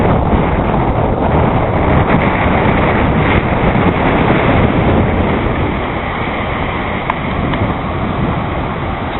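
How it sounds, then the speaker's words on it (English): A large unnamed waterfall near Skogafoss in Iceland roars as a constant, dense broadband rush of falling water, loud and close, with some wind buffeting on the microphone. "we just chanced upon these wonderful waterfalls on the way"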